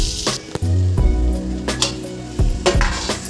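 Chopped onions fry in a pan with ginger and turmeric for egg curry, a steady close sizzle broken by clanking spoon stirs and knocks against the pan.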